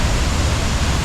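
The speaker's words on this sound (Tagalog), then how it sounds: "Napakalakas ng agos." Tuasan Falls, a waterfall in Northern Mindanao, roars with strong rushing water as a steady, dense, loud wash that carries on without a break and with no voices.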